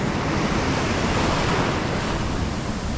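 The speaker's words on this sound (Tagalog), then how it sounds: "Yan, malalaki na yung alon mga pawe." Large ocean waves rolling onto the shore near high tide at a fishing spot in the Philippines, a steady loud broadband roar of surf with wind noise, close and constant without distinct breaks.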